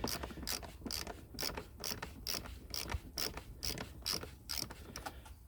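Screws being undone with a screwdriver during a teardown for fault finding, giving a steady run of sharp ratcheting clicks close up, about two per second, with no talking.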